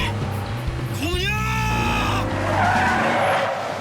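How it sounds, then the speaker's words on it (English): A car brakes hard and skids, its tires letting out a loud rising screech that is close and sustained for a couple of seconds, over engine rumble and faint voices. "Thank God her brakes work."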